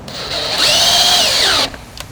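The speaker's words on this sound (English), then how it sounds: "Grab your drill and 10mm socket and tighten it up." A power drill fitted with a 10mm socket tightens a jack nut on a 2021 Hyundai i30N hatch, a loud close whir holding steady for over a second before cutting off sharply.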